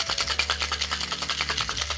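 Ice rattles inside a cocktail shaker being shaken hard to chill a drink, a fast, even back-and-forth rasping rhythm that is close and continuous, with no talking.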